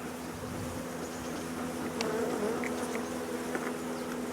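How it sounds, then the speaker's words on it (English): Honey bees buzzing around an open hive during brood removal, a dense steady drone from many bees close by with a few louder individual passes. "Fair number of bees"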